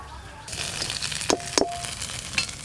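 Steady sizzle of kulekhara leaf and lentil fritters frying in oil in a pan, a hissing bed with a couple of sharp clinks of a utensil against the pan partway through.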